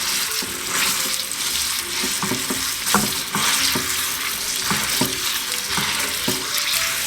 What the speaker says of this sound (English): So we've got our oil to where we want it now, and we're going to add our sausage meat into that